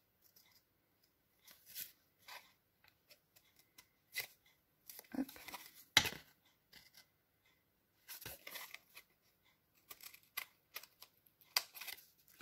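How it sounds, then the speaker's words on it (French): Scissors snip through paper while a junk journal pouch with a rounded tab is being cut, giving short scattered crunchy bursts separated by pauses, close and fairly quiet, with a brief spoken interjection. "Donc, je reprends mes ciseaux."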